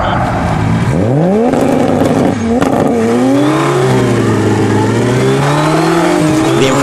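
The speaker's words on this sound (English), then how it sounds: "this black Supra has enough power to break the wheels loose at about 40 miles an hour, both wheels" Black Toyota Supra doing a rolling burnout from about 40 mph, both rear wheels spinning, its engine loud and close as the revs climb and sweep, with tire noise mixed in and a voice speaking over it.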